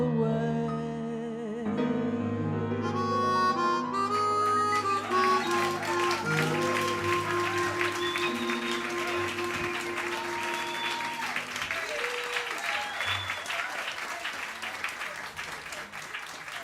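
Cabaret audience at the Metropolitan Room breaking into sustained applause as a sung ballad ends, the final held notes giving way to a wash of clapping that swells and then tapers.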